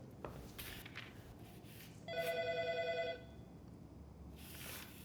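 A telephone rings once in a quiet room, a single bright electronic trill lasting about a second, with soft background sounds before and after.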